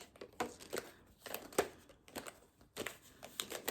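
Tarot cards being shuffled, a stiff deck resisting: irregular crisp riffles and papery slaps in uneven bursts, close and fairly quiet, with no voices.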